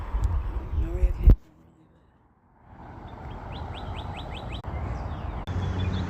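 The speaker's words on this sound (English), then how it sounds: "Well, I hear you, birds." Small birds chirp outdoors at night, a quick series of short high tweets in the middle followed by more faint calls, heard after a loud close thump and a brief near-silent gap, with a steady low background hum.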